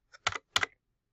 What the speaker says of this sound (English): the URL I have to type in is